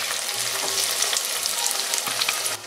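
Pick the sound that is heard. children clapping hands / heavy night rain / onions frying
onions frying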